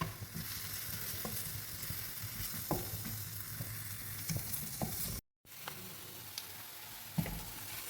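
Ginger and garlic fry in hot oil in a pan for a squid potato roast, crackling loudly and steadily with occasional stirring scrapes and a brief moment of silence.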